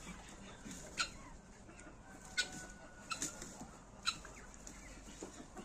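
Faint clucking from crested hens, a few short clucks scattered over a quiet, low background.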